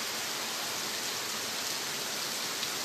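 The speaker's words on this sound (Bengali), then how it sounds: "দেখুন, মুষলধারে বৃষ্টি হচ্ছে, এই বর্ষার সেরা বৃষ্টি" Heavy monsoon downpour pouring steadily, a dense, unbroken hiss of rain filling the scene at an even level throughout, with no voices.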